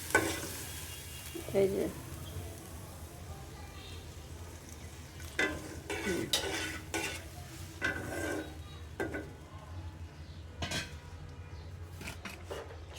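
Nigella seeds (kalo jira) crackle and sizzle in hot oil for a spiced potato dish, with a steady frying hiss broken by scraping stirs and clinks of a utensil against the pan; a voice speaks briefly.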